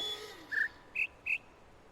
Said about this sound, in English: It's still the bird song.